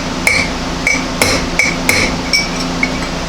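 A steel chisel tapped with a hammer to drive a bearing race out of a brake rotor on a 1937-1948 Ford spindle disc brake install: seven sharp metallic strikes with ringing clinks, evenly spaced and close.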